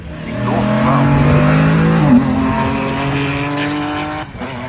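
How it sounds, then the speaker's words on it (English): A BMW 1 Series rally car with a 3-litre straight six and straight exhaust screams past on a stage rally, engine loud and rising through the gears before dropping away, with a brief tire squeal. "BMW 1 Series with its 3 litre straight six. Straight exhaust as well."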